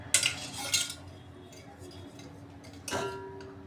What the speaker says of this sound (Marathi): आता आपण तेल घालून घेऊया.